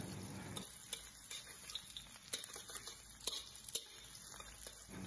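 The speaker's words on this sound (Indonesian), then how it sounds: "aku mau goreng bawang bawang nah bawang merah ya aku goreng" Shallots fry in a pan, giving a quiet steady sizzle and patter with scattered crackles and occasional stirring clicks, close up and without talk.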